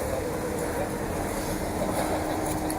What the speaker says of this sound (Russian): Вот как раз мой трамвай.